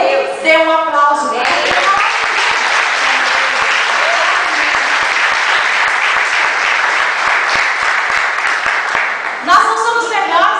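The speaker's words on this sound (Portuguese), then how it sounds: "A Ele dê um aplauso." A church congregation claps and applauds for God during a sermon, a full, loud burst of clapping that runs for several seconds, with a voice speaking over it at the start and the end.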